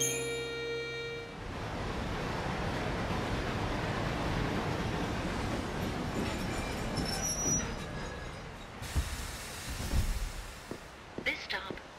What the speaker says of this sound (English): It looks like the monorail is up and running